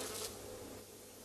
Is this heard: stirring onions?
no